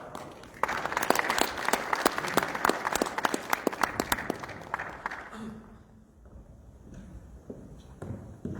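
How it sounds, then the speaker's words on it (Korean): An audience at a regional development policy forum gives a burst of clapping for about five seconds that then fades into quiet room noise, with faint voices and shuffling afterward. "그러니까 우리 박수로 그러면 이충구 교수님의 발표를 청해 듣도록 하겠습니다"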